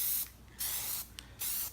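An aerosol can sprays Plasti-Dip onto a part of a Corsair Carbide 600C computer case outdoors, with three close, loud hissing bursts of about a third of a second each, separated by short pauses.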